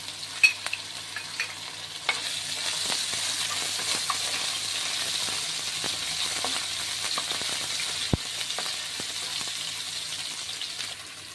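Ginger and garlic stir-fry in a pan with a steady, close sizzle, broken by the scrape and clink of stirring throughout; no one talks.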